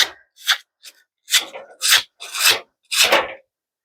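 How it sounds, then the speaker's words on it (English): A pruning tool blade rubbed with fine 220 grit sandpaper: seven short, separate rasping strokes, close and crisp, with brief silences between them. "we're gonna finish with just a little bit of sandpaper. And just like we did with the file, this is some fine grit 220 sandpaper"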